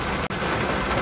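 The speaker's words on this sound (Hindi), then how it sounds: "आज बारिश हो रही है" Heavy rain drums on the roof of a Suzuki Alto VXR, heard from inside the car as a dense, loud, continuous hiss with a brief momentary dip.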